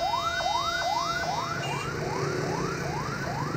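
An ambulance siren wails on a national highway blocked by protesters and long queues of vehicles, a rising, repeating yelp cycling steadily at moderate distance over traffic rumble, with no talk.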